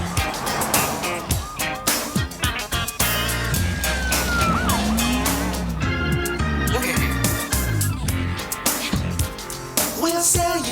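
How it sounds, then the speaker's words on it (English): Ambulance sirens wail and sweep through a busy street scene in a cartoon animation called Meat Street, mixed with music, traffic noise and a talking voice. "we have ambulances going left and right"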